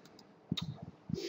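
Computer mouse clicks on a desk: a few quick, quiet, crisp clicks in small pairs, close and alone in a hushed room.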